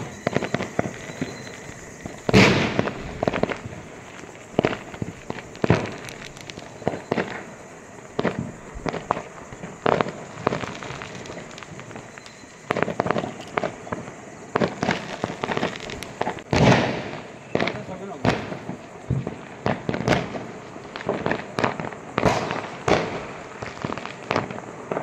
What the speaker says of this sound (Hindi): पटाखों की गड़गड़ाहट हो रही है चारों ओर से।